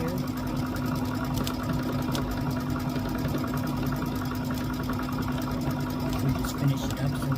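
A sewing machine runs steadily while stitching the end of a hexagon quilt block pieced from fabric scraps, a continuous mechanical hum with rapid needle rhythm and no pauses.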